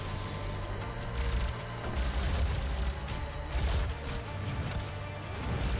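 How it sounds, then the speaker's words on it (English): Rapid, dense weapon fire from the video game Doom 2016, a near-continuous barrage of loud gunshots and impact blasts in fast bursts throughout, with no talk over it. "Am I firing my weapons faster or something?"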